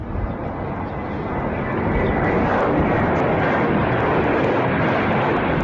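A military aircraft roars loudly and continuously overhead during an air bombardment in northern Iraq's mountainous Zap region, a dense, steady engine drone that swells slightly and holds.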